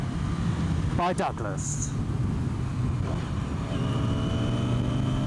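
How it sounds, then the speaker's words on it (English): A Renault Scenic is driven along a road, giving a steady, close engine and road drone throughout while someone talks over it. "here's the marvellous Renault Scenic being expertly driven there"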